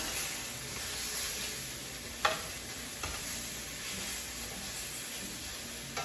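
Curry-stuffed eggplant browning in a hot pan gives a steady, soft sizzle of frying with an occasional sharp clatter as pieces are turned, no voices present.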